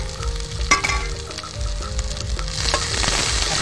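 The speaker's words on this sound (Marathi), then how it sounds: "आता त्याच्यामध्ये आपण जे पाट्यावर वाटलेले मसाले होते ते टाकून घेऊ।" Stone-ground spices hitting sautéed onion in a pan for a village-style chicken curry: a loud, continuous sizzle and crackle with some stirring scrapes, steady and close, no talking.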